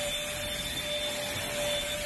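Steady, loud whir of a vacuum cleaner held close while it cleans an air conditioner unit indoors, running continuously with a constant hum and no talking.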